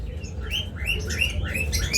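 Green opaline budgerigars chirp in repeated bright, rising calls, several overlapping tweets close by over a steady low background hum.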